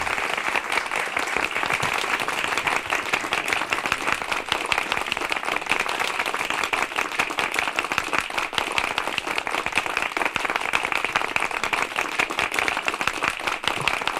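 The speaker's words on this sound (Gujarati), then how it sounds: "જોરદાર તાળીઓ સાથે વધાવીશું." An audience applauds at a student felicitation ceremony, with dense, even clapping that holds steady for the whole stretch.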